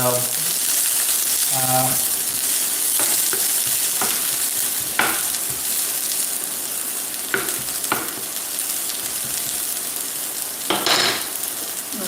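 Peppers sizzle in a frying pan while being stirred around for a Spam teriyaki bowl, a steady close frying hiss broken by scraping utensil strokes and occasional clinks against the pan.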